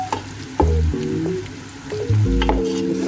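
Garlic and onion frying in a pan for pansit, a steady close sizzle with a few sharp bursts as pieces hit the hot oil, plus light stirring clinks.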